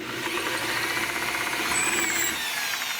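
A power drill whines steadily, a continuous close motor buzz that runs unbroken and alone.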